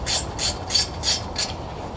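Ratchet clicking in five quick bursts as two 7mm Allen caliper bolts are tightened during a 2011-2018 Ford Focus front brake job, close and clear with no talking.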